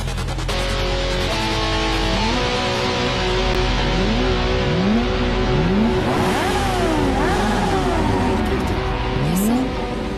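Several car engines rev and accelerate together during a street race, rising and falling pitch sweeps layered over a steady loud roar, with one engine climbing sharply near the end.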